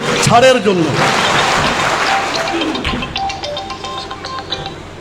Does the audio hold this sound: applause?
yes